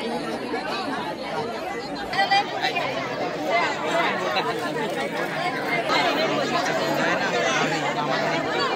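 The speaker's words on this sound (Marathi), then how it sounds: "ओटी भरण्यासाठी फुल गर्दी आहे." Dense, steady crowd chatter fills a packed queue at a Konkan temple festival for the goddess Bhavani, many voices overlapping close by at a constant loud level with no single speaker standing out.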